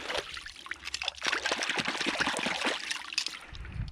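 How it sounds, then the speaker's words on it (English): A raccoon trap caked with mud being rinsed in river water, with close splashing, trickling and pouring that runs on unevenly throughout, ending in a low thump. "We're gonna give this thing a rinse here."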